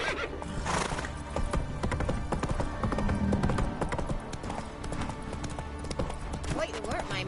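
Roach the horse in The Witcher video game, hooves clip-clopping with whinnies, set against a dense busy game soundscape with someone speaking over it.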